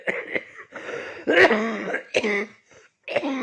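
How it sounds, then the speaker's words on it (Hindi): Several rough coughs and throat-clearing bursts, close to the microphone, separated by short pauses. "हाँ नहीं, थोड़ी खांसी"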